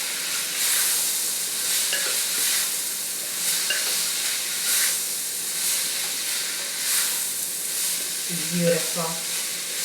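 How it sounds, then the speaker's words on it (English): Carrots dropped into a sizzling Kerala vegetable stew in a Malabar-style pan, steady frying hiss and bubbling throughout with stirring, and a brief spoken word near the end. "In this juncture, I'm going to be adding some more carrots."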